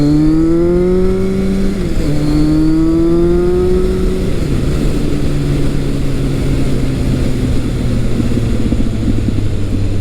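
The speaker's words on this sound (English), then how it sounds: "I love that deep tone of this motor." A Kawasaki ZRX1200R motorcycle engine runs with a deep, steady drone at close range, its pitch climbing, stepping down at two gear shifts, then rising again under continuous road noise.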